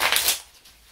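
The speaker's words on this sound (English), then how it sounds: "And now we shuffle again." A deck of playing cards with a paper clip attached is shuffled in one quick, crisp riffle that fades into quiet rustling, close and brief.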